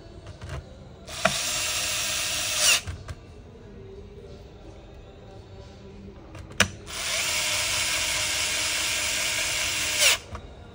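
Electric screwdriver driving screws back into an ASUS A456U laptop during repair, two steady whirring bursts of about two and three seconds, close and fairly loud, separated by a quiet gap.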